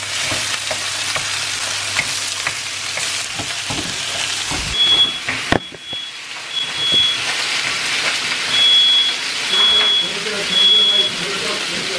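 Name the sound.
beef frying in a pan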